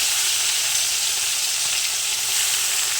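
Freshwater snails fry in a hot wok, giving a dense, loud, continuous sizzle that holds steady throughout with no talking.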